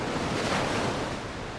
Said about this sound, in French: la mer emportée par la grande marée continue à se lancer à l'assaut de la